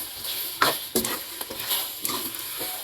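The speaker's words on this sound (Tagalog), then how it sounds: "Ito yung part na kailangan mo na siyang haluin ng haluin para dumikit na yung kanyang tamis sa saging." Bananas being stirred in caramelizing sugar in a pan, with several distinct scraping strokes over a soft, steady sizzle, close and fairly quiet, no talking.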